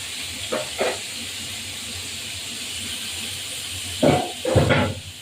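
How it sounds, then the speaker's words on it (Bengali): Rohu fish fries in a pan with a steady, low hiss of hot oil, broken by a couple of louder spitting bursts near the start and a stronger sputter toward the end. "মাছটা ভাজা হতে থাকুন ভাজা হলে আমি আবার ফিরে আসছি ভাজা হতে থাকো এপিট ওপিট ভাজা হবে"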